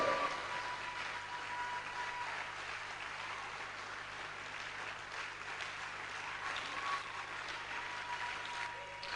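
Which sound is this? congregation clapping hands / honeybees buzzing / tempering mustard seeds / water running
congregation clapping hands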